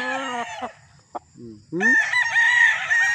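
A three-year-old gamefowl broodcock rooster crows loudly and close, a short clucking call first, then a long strained crow to the end, with no voices.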